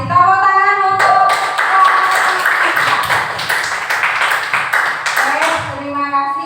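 Applause from a teacher training audience, a dense patter of clapping spread across the clip, with a voice speaking over the start and end.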